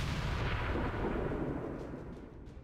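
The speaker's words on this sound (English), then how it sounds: "That dude exploded." An explosion in the video game XCOM 2 lands as one deep, heavy boom that rolls and fades away over a couple of seconds, muffled and fairly quiet, with no voices.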